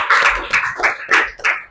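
A classroom of students claps hands in several uneven bursts, loud and close, with brief pauses between rounds.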